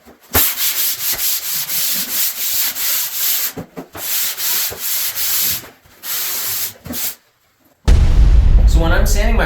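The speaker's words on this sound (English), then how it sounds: "So when I'm sanding my butt joints" Drywall butt joints are sanded by hand in long scraping strokes that come in steady repeated bursts, loud and close. A brief gap falls near the end before a different rumbling noise takes over.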